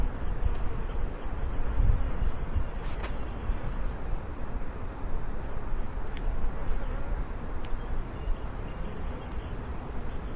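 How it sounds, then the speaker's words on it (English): Irritated honeybees buzzing during a spring hive split, a dense, continuous low drone with wind rumble against the microphone and a few brief knocks, steady throughout with no talk. "You can tell the bees are getting a little bit more irritated."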